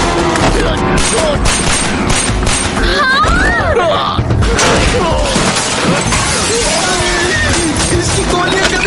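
Rapid gunfire rattles on amid crashes and shattering debris in a loud, chaotic scene, with voices mixed in.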